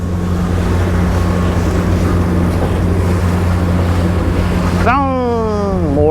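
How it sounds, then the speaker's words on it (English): Waves and wind buffet an Island Packet sailboat on the East River near the Brooklyn Bridge, with a steady loud wash and a low engine drone throughout; near the end, a rising and falling tonal whine cuts in over the noise. "More big waves."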